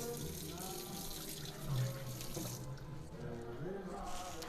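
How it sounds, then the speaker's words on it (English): Water runs from a kitchen sink tap while something is rinsed under it, a steady close splashing flow with soft background music faintly underneath. "I'm gonna rinse this off real quick here."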